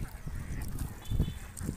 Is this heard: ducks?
yes